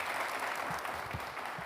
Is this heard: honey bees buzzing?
no